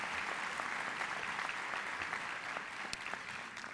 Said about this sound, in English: So can you also give a round of applause to your teachers, please, and thank them very much.